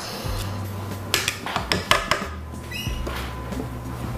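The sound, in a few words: cookie tray put into the oven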